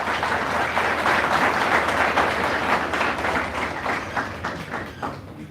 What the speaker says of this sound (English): Let us welcome them all with a big round of applause.